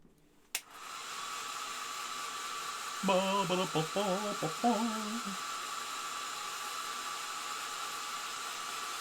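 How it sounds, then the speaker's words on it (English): A handheld hair dryer switches on with a click and keeps up a steady, loud whooshing roar to the end, with a brief stretch of voice sounding over it midway. "But first, we hit it with the hairdryer."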